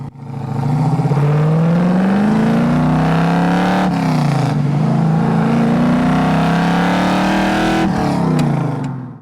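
A 1973 Chevrolet Camaro Z28 engine revs hard and loud, pitch rising steadily through gears with two brief shift dips, a sustained close-up acceleration roar.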